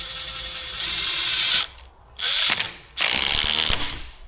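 Ratcheting on bolts of stainless marine-grade jubilee clips in the cramped engine bay of an MR2 during a VW turbo engine swap, heard as two bursts of rapid clicking separated by short pauses.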